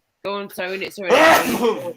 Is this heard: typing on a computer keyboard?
no